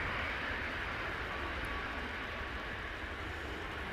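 A Boeing Dreamliner airliner climbing away after takeoff at Manchester Airport, heard as a steady, broad distant jet roar that holds at an even level without a break.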